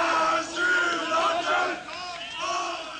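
A large jeering, hooting crowd at the 1992 Rostock-Lichtenhagen riot, many voices shouting and yelling together in a sustained, loud outdoor roar that swells and dips.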